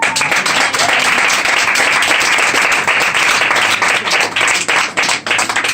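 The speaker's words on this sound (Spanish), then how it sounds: "Denle un aplauso a Cristo." Church congregation breaking into loud, sustained applause during a sermon, a dense, close wash of clapping that continues steadily for several seconds.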